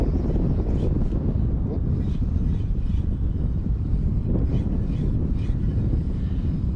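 Wind gusts over open water near a sand island during kayak fishing, a steady loud rumbling buffet across the whole clip with occasional stronger surges and no talk.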